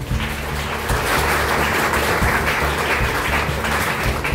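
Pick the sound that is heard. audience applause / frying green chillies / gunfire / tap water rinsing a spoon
audience applause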